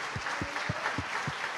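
A church congregation applauding the Saviour while standing, rhythmic clapping at a steady beat over a dense wash of hands.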